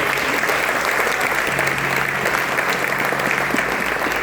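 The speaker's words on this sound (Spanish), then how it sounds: "¿Puedes dar un aplauso al Señor y darle gracias, por favor?" A church congregation applauds, with dense, sustained clapping from a crowd that fills the whole stretch at an even level.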